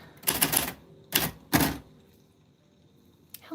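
Keys of a 1949 Royal Arrow manual typewriter clack in two or three quick, loud bursts of strikes with short pauses between, followed by near silence and one faint tap at the end.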